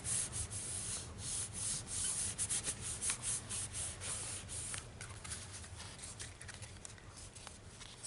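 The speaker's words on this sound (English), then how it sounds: "Then I close it and I just rub it like I did before, so I'm not going to smudge any ink." A folded paper Christmas card is rubbed flat by hand, giving faint, soft scratchy strokes that repeat in an uneven rhythm close by, with no talking.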